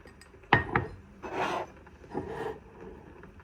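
A spoon scraping and scooping food into dishes at a pre-dawn Ramadan meal, a few close, distinct scrapes and soft clinks spaced out over a few seconds.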